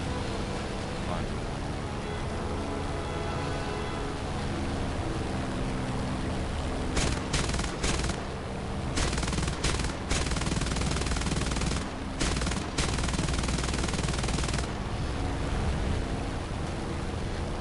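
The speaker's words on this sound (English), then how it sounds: "They're hella shooting at me" Loud, sustained automatic gunfire from a video game firefight, with rapid bursts in the second half, over a voice talking.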